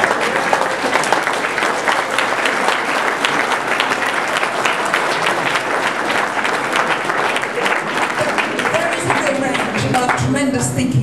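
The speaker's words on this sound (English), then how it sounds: "clap the long list?" Sustained audience applause at a British literary prize debate, a broad, even wash of many hands clapping that holds steady for about ten seconds before thinning at the end.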